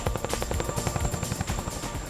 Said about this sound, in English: We talk about the Chinook being a tandem rotor helicopter and it being an innovation.